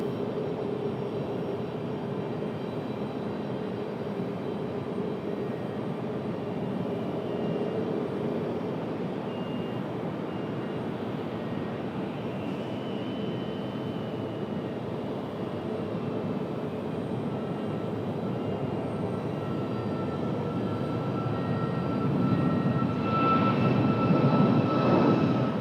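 A FedEx heavy jet on approach to runway 23 right at Raleigh-Durham International airport rumbles as a steady distant roar, building slightly louder in the final seconds as it nears touchdown, with no voices.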